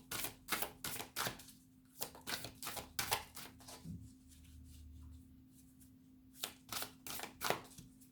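Tarot cards being shuffled for a reading, a quick run of crisp riffling and slapping bursts near the mic, pausing mid-clip then resuming, with no talk over it.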